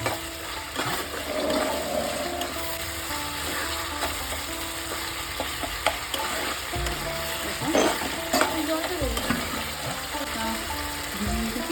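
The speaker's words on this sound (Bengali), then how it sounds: "ভালোভাবে কষিয়ে নেব।" Capsicum and tomato sauté in oil with spice masala for a vegetarian paneer curry, a steady close sizzle broken by repeated scraping and clattering as the pan is stirred, with no talking.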